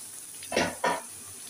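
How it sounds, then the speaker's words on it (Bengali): Garlic, onion and slit green chillies frying in a pan, with two short bursts of sizzle and stirring against a quiet background. "এবার এগুলোকে ভালো করে ভেজে নেব।"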